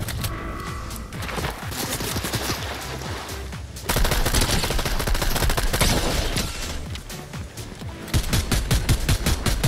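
Rapid gunfire in the Fortnite Zero Build battle royale game, dense bursts of automatic shots rattling loud and close almost without pause, with heavier volleys toward the end.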